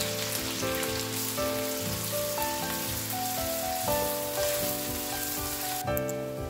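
Chopped onions fry in half a cup of oil, a loud, continuous close sizzle with a rain-like hiss, layered under soft tonal background music.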